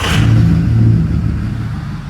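A truck engine idling after an injector harness (FICM harness) replacement, a steady low rumble up close that fades slightly toward the end, with no voices.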